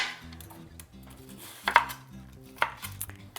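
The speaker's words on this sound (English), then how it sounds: "And then you just start slicing." Leeks are sliced with a knife on a cutting board in a farm-to-table kitchen: sparse, irregular taps and a couple of sharper knocks against the board, close and quiet, with no talking.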